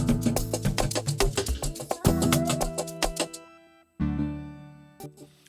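An electric piano from the Analog Lab software plugin plays a sequence of bright chords, ringing clearly and alone, then pauses before a final sustained chord rings out.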